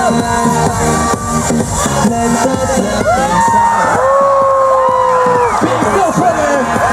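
Loud outdoor crowd cheering and whooping for archery team performers at the California State Games, with shouting voices and overlapping yells throughout.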